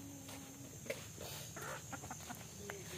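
Chickens on a rural Filipino homestead cluck in short scattered bursts against steady outdoor background noise, with one brief sharper call near the start.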